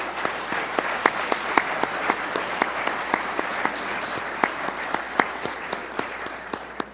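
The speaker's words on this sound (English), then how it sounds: "And yes, we should clap." An audience claps steadily at the South San Francisco city council reorganization ceremony, a sustained even wash of applause with sharp individual claps standing out near the microphone, no voices.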